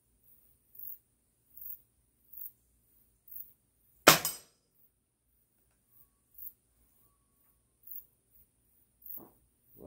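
A single loud, sharp gunshot cracks out at dusk while target shooting with the "Shockwave", ringing briefly against a quiet background of faint regular clicks and buzzing.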